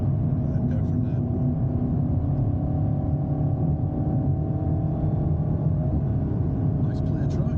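An Alpine A110S on the Thruxton circuit, its engine a steady, even drone heard from inside the car at constant throttle, with a brief higher rattle near the start and end.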